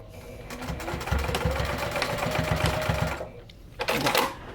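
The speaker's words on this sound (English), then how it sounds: "So I'm going to run the bottom here real quick, the stitching." A sewing machine stitches across the bottom of a handmade flex-frame sunglasses case in a rapid, loud, continuous mechanical run, stops, then gives a short final burst.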